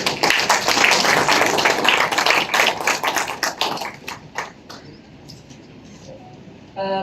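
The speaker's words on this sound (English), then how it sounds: "A round of applause for her, please." An audience at a regional council signing ceremony in Hardap applauds a hydrogen energy company representative: dense clapping for about four seconds, thinning into a few scattered claps before fading out.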